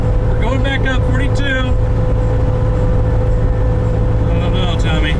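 A Fiat 500 labours up a hill on a U.S. highway stuck in fourth gear, a steady droning engine and road hum filling the cabin while someone talks over it.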